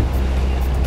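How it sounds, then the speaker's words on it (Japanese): A 20-year-old fishing boat's original carburetted engine running, a steady low rumbling drone, close and continuous, with no voices over it. "作られてからもう20年ぐらいの船で、エンジンもその当時からのものなので、しかも インジェクションじゃなくてキャブレターということで"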